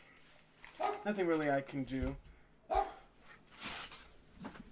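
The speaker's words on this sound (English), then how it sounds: "Sorry guys about the dog, that's my neighbor's dog going off." A neighbor's dog barks in a few sharp bursts in the background, mixed in with someone talking close to the microphone.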